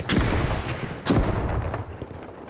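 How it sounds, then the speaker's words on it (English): In a battle-pass shooter video game, a gas grenade thrown during a match lands with two heavy booming bursts amid rumbling gunfire-like noise, loud and close. "Gas grenade out."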